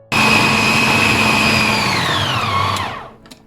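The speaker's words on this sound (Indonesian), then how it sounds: "kita blender lagi." Electric blender mixing galantine dough of bread, meat, egg and luncheon meat, a loud close whirring motor starting abruptly, running steadily, then winding down in pitch before stopping with a small knock.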